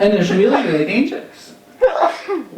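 A single sharp sneeze bursts out close by during a speech at a Defend Women's Rights event, abrupt and brief, set between stretches of someone talking.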